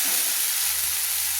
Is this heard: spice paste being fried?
yes